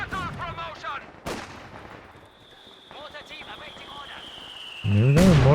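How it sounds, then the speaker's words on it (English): Mortar rounds fired and landing in a Company of Heroes 2 match: a few sharp, isolated booms amid battlefield noise, mixed under a commentator's voice and in-game speech. "Mortar's getting some work done."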